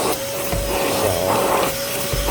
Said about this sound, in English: The more you vacuum out these edges, the better chances of not having soil filtration issues.